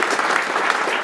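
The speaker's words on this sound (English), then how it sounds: "please hold your applause until the end after these ones as well" Applause from the audience at a chamber of commerce awards breakfast in West Seattle, a dense steady clatter of many hands clapping together in a hall, heard alone and evenly loud throughout.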